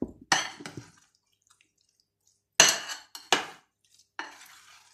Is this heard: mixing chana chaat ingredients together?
yes